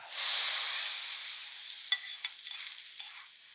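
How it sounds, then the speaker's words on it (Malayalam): Mustard seeds, curry leaves and dried chillies tempering in hot oil for a taro and dried fish curry give a loud, steady sizzling hiss that gradually eases, with a few sharp pops and clinks toward the end. "കടുകൊക്കെ പൊട്ടി ഇച്ചിരി ഇട്ട് കൊടുക്കാം കറിവേപ്പില വറ്റൽമുളക്"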